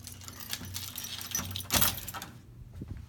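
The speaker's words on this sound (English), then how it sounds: "So you can just unlock the space with the keys that you have." Keys jangle near the microphone while a room door in a university hall is unlocked. A brief burst of metallic clinking comes over soft background noise, and no one speaks.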